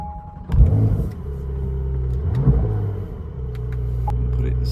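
A Porsche car pulling away on a drive around the block, heard from inside as a deep engine rumble swelling with two revving surges, plus faint clicks and a voice speaking briefly.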